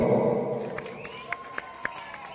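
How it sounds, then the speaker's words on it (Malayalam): An audience claps and cheers at a cotton mill recreation club's 42nd anniversary celebration with a comedy show. The applause is dense and loudest at the start, then thins into scattered claps and sharp taps. "വേടൻ ഫാൻസ് ഒന്ന് കൈയടിക്കോ?"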